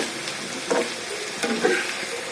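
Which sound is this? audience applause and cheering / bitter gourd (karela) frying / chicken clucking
bitter gourd (karela) frying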